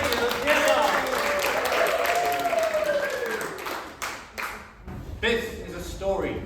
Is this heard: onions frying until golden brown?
no